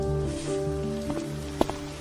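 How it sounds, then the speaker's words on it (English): Rain falls on a surface in a soft, steady patter, with a few sharper drop hits standing out near the end, layered over a sustained tonal musical bed. "President Reed, it's raining."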